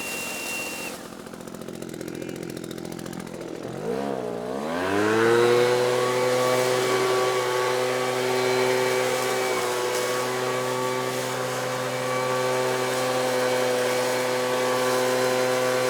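A leaf blower starts up after a quiet stretch, its motor winding up and settling into a steady, loud, droning whine that holds unbroken for the rest of the stretch, close by with no talk.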